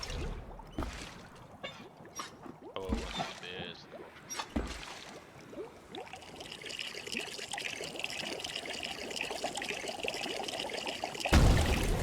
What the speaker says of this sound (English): Pour the spring water into the cauldron.